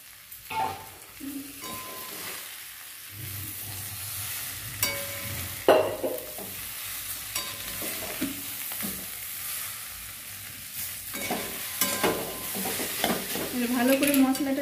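Potatoes with spices for samosa filling, stirred and fried in a pan: steady sizzling with repeated scraping strokes of a spoon, close and moderately loud, with no voice.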